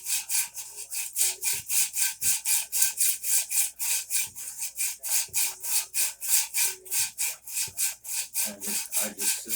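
A hand saw cuts through wood in a long run of regular back-and-forth strokes, each one a rasping scrape, loud and close, keeping an even rhythm for the whole stretch.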